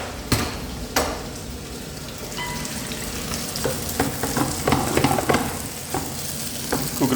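Shrimps and red chilies stir-frying in a wok, with a steady loud sizzle broken by repeated scraping and clinking strokes of a utensil against the pan.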